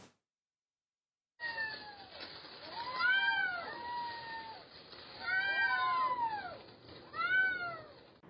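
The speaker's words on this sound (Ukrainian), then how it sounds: "Ці п'ятеро кошенят лежали у контейнері серед побутових відходів" Five abandoned blind kittens, found in a household waste container in Rivne and covered in cement, meow in three clear bursts of high, thin cries after a moment of silence.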